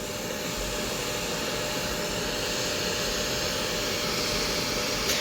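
Hot air from a heat source, likely a heat gun, blows steadily across the adhesive pad of a helmet chin mount being warmed; an unbroken, loud whooshing roar with no talk.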